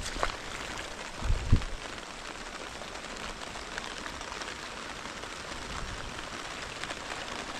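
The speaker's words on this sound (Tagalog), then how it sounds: "Nako, malakas na yung ulan." Steady, dense hiss of heavy rain falling, continuous and even throughout, with a couple of brief low thumps near the start.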